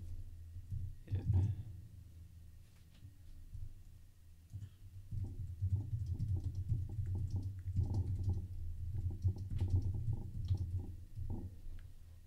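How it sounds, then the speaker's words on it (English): Typing on a computer keyboard while coding a RubyGem, heard as soft irregular key clicks and taps in bursts, fairly close, with low background hum. "Finish typing this."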